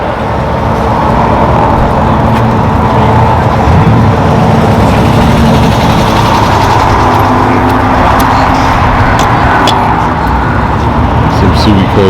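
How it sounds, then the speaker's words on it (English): Subaru rally cars rumble past as they pull out of a busy car meet, engines droning loud and near for several seconds, with people talking over the traffic noise. "Some Subi cars heading out."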